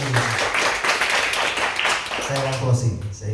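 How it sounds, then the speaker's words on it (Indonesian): Church congregation claps in applause for God, a dense patter of hands under a preacher's voice, fading as he continues speaking. "Jadi kata tepuk tangan untuk Tuhan."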